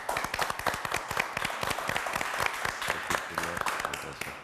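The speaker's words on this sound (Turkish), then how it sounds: "Bir alkış daha o zaman" A crowd claps in sustained applause, dense and steady throughout, with faint voices mixed in near the end.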